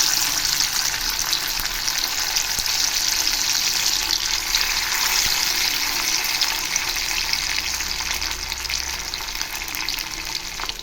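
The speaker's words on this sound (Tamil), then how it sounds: "ஒரு கடாயை வச்சு எண்ணெய் ஊற்றி இந்த மீனை ஃப்ரை பண்ணி எடுத்துடலாம்" Fish frying in hot oil in a kadai, a loud, steady sizzle with crackling and bubbling that runs on without a break, no voices over it.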